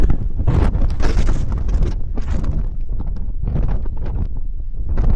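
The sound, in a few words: wind on hill summit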